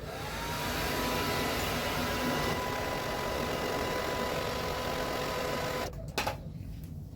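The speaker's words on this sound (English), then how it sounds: "I got my hair dryer" A steady, loud blowing whir runs continuously for several seconds, then cuts off abruptly near the end with a couple of brief clicks.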